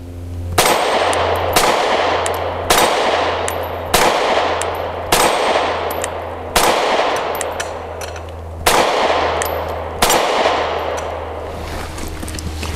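Canik METE MC9 9mm pistol fired outdoors, about ten sharp, loud reports spaced roughly a second apart, each with a ringing tail that fades before the next shot, over a steady low hum.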